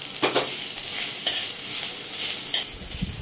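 Dried red chillies with cumin seeds and ginger paste fry in a pan, giving a steady close sizzle with a few clicks of stirring and no talking.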